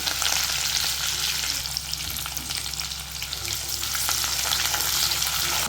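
Chopped ginger, garlic, green chilli and curry leaves fry in oil in a pan for an onion tomato thokku, giving a loud, dense, steady sizzle and spatter heard up close with no voices.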